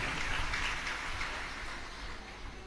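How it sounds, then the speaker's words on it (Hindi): Applause from the audience at a Shiv Mahapuran katha, a dense wash of clapping at moderate distance that is strongest at first and slowly fades, with no voices over it. "एक बार जोरदार ताली बजाकर इनके लिए साधुवाद"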